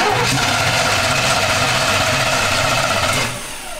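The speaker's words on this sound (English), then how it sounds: "Go and pump it two, three times and try to start it." A 1971 Jaguar fitted with a small-block Chevy V8 with a dirty carburetor cranks and catches, loud and close, a rough continuous engine roar that eases off near the end.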